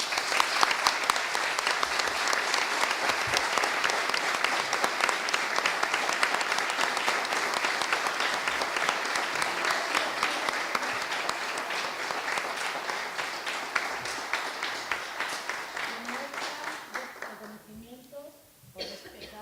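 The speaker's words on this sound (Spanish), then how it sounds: "creo que se merece un aplauso" At a municipal ceremony naming an official town chronicler, the audience gives a long round of steady clapping that holds for many seconds, then tapers off near the end into murmuring voices and a cough.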